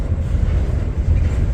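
A low, steady rumble of an approaching eastbound Norfolk Southern intermodal train in the distance, continuous and broadband without distinct horn or clatter.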